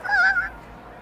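A chicken gives a single loud, nasal honking squawk with a rising-then-falling pitch, close by and alone, fading into a low background rumble.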